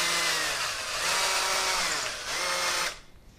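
Electric drill boring a hole in wood, a loud close whirring whine that dips and rises as the bit bites, then cuts off abruptly near the end.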